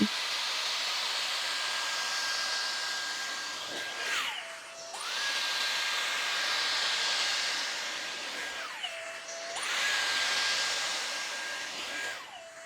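A Dyson Airstrait hair dryer runs on its cool setting with a loud, steady whoosh and a high whine, close by, cutting out briefly at regular intervals before starting up again, with no talk.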